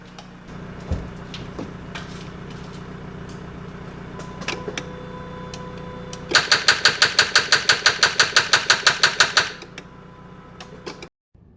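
An engine with a weak battery at 11.2 volts cranks slowly in a fast, even run of loud, close clicks and turns for about three seconds without starting, then goes quiet.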